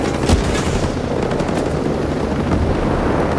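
Gunfire rattles in the video game Ghost Recon Breakpoint, with sharp bursts and heavy booms rising over a constant loud rumble of battle noise.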